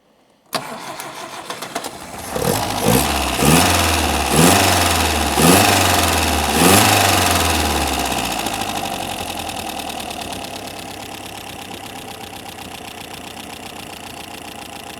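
An old 1980s Daihatsu 4x4 engine cranks in several rhythmic bursts, then catches and settles into a steady, loud idle close by with no talking.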